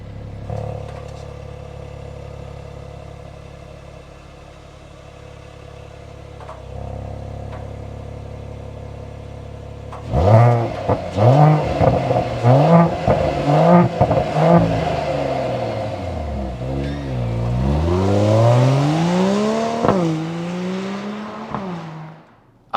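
A sport SUV engine idles low, then loudly revs and accelerates with a throaty, rising exhaust note through several gear-like surges before easing off.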